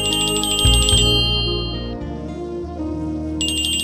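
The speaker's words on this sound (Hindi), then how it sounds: "Unknown number. जरूर पैसे के डिमांड के लिए फोन होगा, आप उठाइए।" A phone rings with an incoming call from an unknown number, a loud electronic ringtone of repeated bright bell-like tones that fades under a swelling dramatic music bed, then returns near the end.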